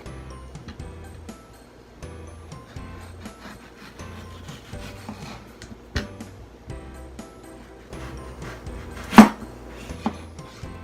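A knife slicing through a mango beside the pit, giving soft, close cutting and scraping sounds in short irregular strokes against a board, with quiet clicks and one sharper knock.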